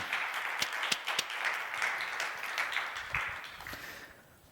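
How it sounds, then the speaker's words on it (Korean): Church congregation applauding after a testimony is read during a sermon, a dense wash of claps with a few sharper individual claps standing out, steady for several seconds before thinning and fading at the end. "우리 하나님께 박수"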